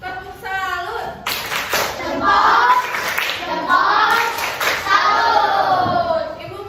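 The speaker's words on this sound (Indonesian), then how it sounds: "Coba tepuk salut." Young pupils in a classroom performing the 'tepuk salut' rhythmic clap, bursts of crisp claps alongside loud children's voices chanting together, near and energetic.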